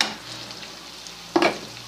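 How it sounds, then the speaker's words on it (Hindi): Chopped onions sizzle steadily in hot oil in a pan for aloe vera curry, a constant close hiss broken near the end by one brief clatter of a spoon stirring. "और करते हैं इसको हल्का सा फ्राई।"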